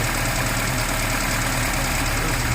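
ZAZ car engine fitted with a Solex carburetor idling steadily, a close, even mechanical hum with a faint regular knock and no talking over it.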